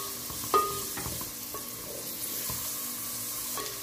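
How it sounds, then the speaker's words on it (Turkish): Carrots and mushrooms sautéing in a pan, a soft steady sizzle with a few sharp clicks of a utensil stirring against the pan, close and fairly quiet, no voices. "Şimdi de biraz da havuçlarını şöyle soteleyelim."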